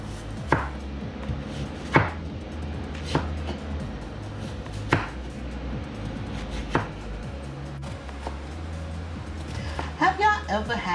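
Knife chops an onion on a board in a kitchen while spaghetti with spicy cheese meat sauce is prepared, with sharp irregular thuds spaced a second or so apart, then a faster flurry of cuts, under a person talking.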